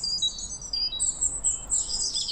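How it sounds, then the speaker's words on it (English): A small bird chirps with high, thin, rapid tweets in repeated phrases, clear and fairly close over a quiet background. "A small bird returns to its nest."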